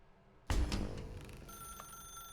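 A telephone rings in The Stanley Parable video game, an abrupt loud bell onset after near silence, then a sustained ringing tone with a steady hum beneath.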